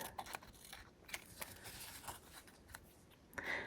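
Scissors snip repeatedly through strips of homemade washi tape, a quiet series of crisp cuts and paper rustles, close up with no talking.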